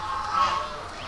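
Small ducklings, sold as fiesta prizes, give a short, high, nasal call, a single brief honk-like quack heard close up.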